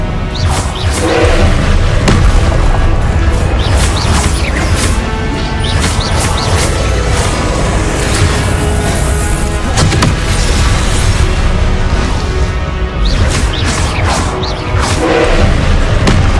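Fiery Confringo spell explosions in the Hogwarts Legacy video game: loud, dense, continuous booms and crashing blasts layered over game music, sustained throughout with little pause.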